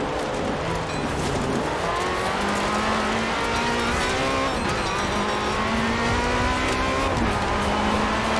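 A Lamborghini Countach in Forza Horizon 4 drives with a steady, loud engine drone whose pitch rises and shifts through gear changes, with faint tire noise, all continuous and close with no talk.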